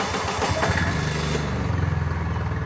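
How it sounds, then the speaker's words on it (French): A small key-started microcar (voiture sans permis) engine cranks and catches, settling into a low, rapid chugging idle close by, with no talking. "Vous poussez la clé plus loin jusqu'à ce qu'elle soit démarrée."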